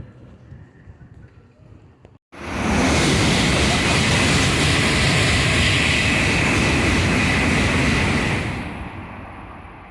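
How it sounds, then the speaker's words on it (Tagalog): A Shinkansen bullet train at Gifu station rushes through in a loud, sustained roar that bursts in suddenly after quieter platform ambience, holds steady for several seconds, then fades as it passes. "Kita nyo naman at narinig nyo naman kung gaano kabilis ang ating Shinkansen dito."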